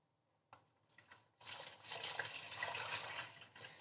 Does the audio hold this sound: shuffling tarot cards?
no